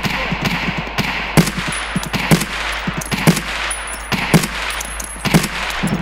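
Gunshots in a first-person shooter video game, a series of sharp, loud cracks roughly a second apart against steady ambient background, with a few fainter pops between them.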